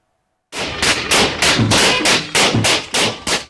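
Celebratory gunfire at a wedding or military send-off: about ten loud, sharp shots in a quick, fairly even volley, close and unaccompanied after a brief silence.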